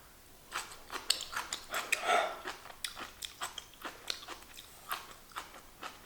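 Someone bites into and chews kimchi close to the microphone, with soft wet crunches repeating in an uneven rhythm, fairly quiet.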